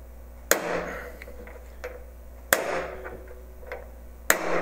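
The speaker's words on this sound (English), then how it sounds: "And I whack it." A hammer strikes a socket held against an MGB universal joint cap to drive it out, three sharp metallic whacks spaced about two seconds apart, each followed by small rattles and clinks.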